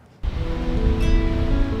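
Ocean surf breaking at the beach in Westport, a steady, loud rush of waves that swells up abruptly after a brief quiet start and keeps roaring throughout, with some wind noise.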